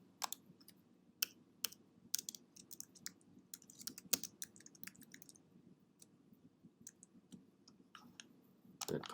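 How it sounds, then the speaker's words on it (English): Fingers tap out a burst of keystrokes on a computer keyboard, a scatter of quiet, uneven clicks close by over a low room hum, with no voices. "Maybe type in here."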